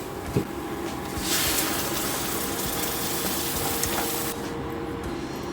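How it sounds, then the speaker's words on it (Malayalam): Thick ground masala paste poured from a container into a hot pan of fried masala for mutter paneer, a steady wet gushing pour lasting about three seconds, close and moderately loud with no voices. "ഇനി നമുക്ക് ഇതിനകത്തോട്ട് നേരത്തെ അരച്ച് വെച്ചിരിക്കുന്നത് ഒഴിച്ചു കൊടുക്കാം"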